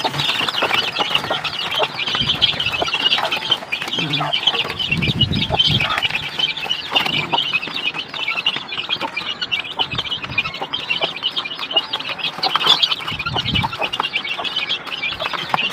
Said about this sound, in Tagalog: Nagpapakain na sila. Ang mga chicken.